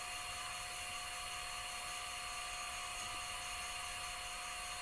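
A metal lathe spins a part while it is sanded through progressively finer grits on a Rockwell MD21 restoration job, giving a steady, continuous high-pitched whine and hiss with no breaks, close and moderately loud.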